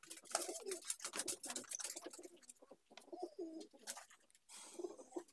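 Andhra pigeons coo in a series of soft, throaty phrases with brief pauses, close and fairly quiet, with no one talking over them.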